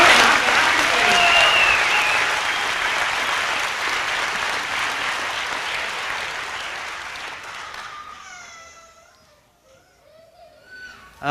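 A crowd of guests at a spring graduation ceremony claps and cheers loudly and steadily, then the applause fades away, leaving a quiet room with faint scattered voices and a child's noises.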